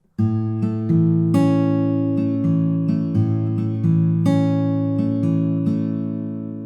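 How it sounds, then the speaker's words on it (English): A full bar of fingerpicked acoustic guitar from a song, the plucked pattern played twice through in a steady, flowing rhythm, each note ringing over the chord, close and unaccompanied. "We play that twice for 1 bar of music, which would sound like this"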